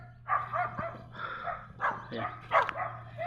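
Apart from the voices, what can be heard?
dogs barking on a farm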